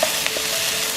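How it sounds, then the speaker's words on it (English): Shrimp fry in a hot pan for Thai basil fried rice, giving a loud continuous sizzle with a quick clatter of stirring near the start. "Now I'm gonna put it back the shrimp. So I want to cook the shrimp a little bit more."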